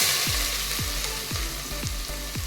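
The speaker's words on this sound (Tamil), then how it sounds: "அது ஆயிலில் நல்லா ஃப்ரை ஆகட்டும். ஆனியன் போட்டுக்கலாம்." Onions fry in hot oil in a one-pot chicken biryani, a constant loud sizzle broken by regular thumps of a spoon stirring the pan, with no talking.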